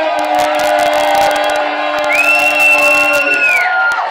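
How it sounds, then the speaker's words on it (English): Wedding guests roar and cheer together, loud and sustained, with shouts and whoops rising over the noise and a high whistle near the end. "One last big roar, a big round of applause for Mr."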